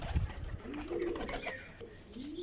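Pigeons in a loft coo in soft, low, rolling calls, faint against a background rustle and light shuffling.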